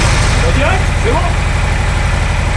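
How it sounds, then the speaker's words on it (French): A Yamaha Royal Star 1300 V4 motorcycle on its standard exhaust idles close by with a loud, steady low thumping pulse, while a person speaks briefly over it. "C'est l'échappement standard. Hein, Alors ça c'est le fameux patapa."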